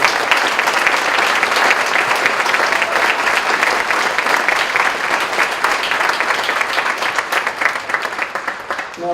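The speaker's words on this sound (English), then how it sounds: "please join me in a big round of applause for our performers from the Allentown School" Audience at a school gala giving a big round of applause for student performers, loud, dense clapping from a large crowd that holds steady and begins to thin near the end.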